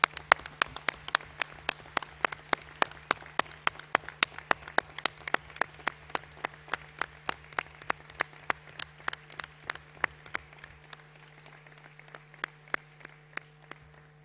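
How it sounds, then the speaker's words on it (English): Sustained applause for students at a model United Nations closing ceremony, a steady run of sharp, evenly spaced claps over a constant low hum, thinning toward the end. "I want to hear a huge applause for all the dedicated students that made this possible."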